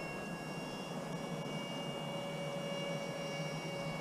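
An EDF A-10 model jet flies overhead, its ducted fan producing a steady, faint whining hiss with thin high tones and no break in the sound.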